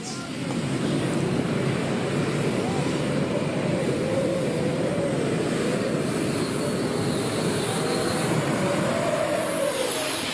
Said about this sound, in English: watch another run of your beautiful tractor, Baz, going down the track